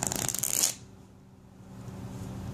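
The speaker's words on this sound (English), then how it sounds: "Shuffle the cards." Playing cards riffle-shuffled during a magic card trick, a loud, dense burst of crisp flutter lasting about half a second, then low room quiet.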